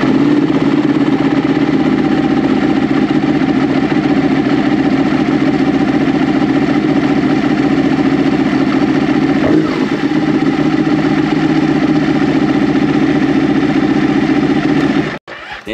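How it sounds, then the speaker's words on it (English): A motorcycle engine idles steadily and loudly up close with an even, unbroken rumble that cuts off abruptly at the end. "I'm gonna start the bike and see what happens."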